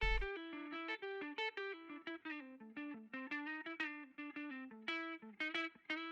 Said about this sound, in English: This little arcade sample is this little guitar.